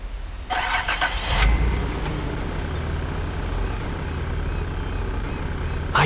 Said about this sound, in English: You could drive a truck.